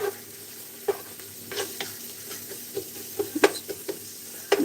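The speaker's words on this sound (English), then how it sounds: "Give it a gentle stir." Minced garlic and onion fry in a pan while being gently stirred, giving a soft, steady sizzle broken by scattered light scraping clicks from the utensil. No one speaks.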